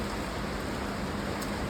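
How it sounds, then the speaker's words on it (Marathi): Heavy rain falls outside in a steady, unbroken hiss that stays even throughout, with no voices present. "कारण की पाऊस खूप जोरात येतो बाहेर."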